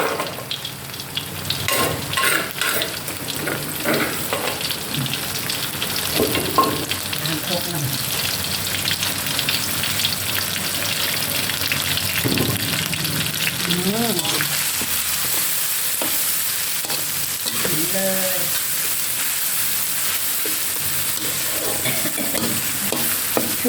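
Frog meat stir-fried in a wok for a spicy Thai pad cha with grilled frog, sizzling steadily throughout with scraping, clattering stirring strokes, and a voice speaking briefly now and then over the cooking.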